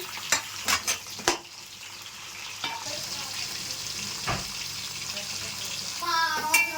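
Onions frying in oil in a pan as tomato goes in for a Nellore-style mango fish curry, a steady close sizzle broken by a few sharp knocks and clatters of a spoon against the pan, with stirring splashes near the end.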